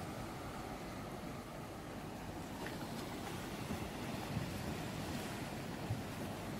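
Steady roar of surf washing in continuously on the coast at Salalah, Oman, with wind rumbling across the microphone and no voices.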